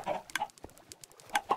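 Chickens clucking inside a coop in Minecraft, several short bursts of clucks and squawks in quick uneven succession, close and clear with no talking.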